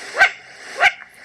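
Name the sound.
bird alarm bark, confusable with great horned owl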